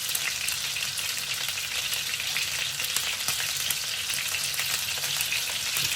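Meatball and potato korma sizzles loudly and steadily in a pan as it is stirred, a close, dense frying hiss with faint scraping underneath.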